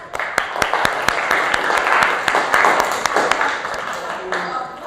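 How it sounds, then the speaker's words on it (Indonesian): Scattered, uneven clapping from a small group of students in a classroom, sharp individual claps over a murmur of voices, fading toward the end. "Mari kita apresiasi dengan berikan tepuk tangan dulu"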